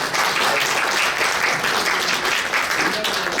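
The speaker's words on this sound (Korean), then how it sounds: "좋은 강의 다시 한번 큰 박수 부탁드리겠습니다" A large audience at a New Year gathering gives loud, sustained applause after a lecture, a thick continuous roar of clapping close by that stays level throughout the short stretch.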